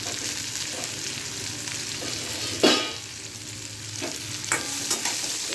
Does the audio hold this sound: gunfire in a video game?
no